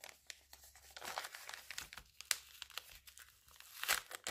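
Paper crinkles and tears as a paper advent calendar envelope is torn open up close, in a run of irregular rustles and sharper rips at moderate volume.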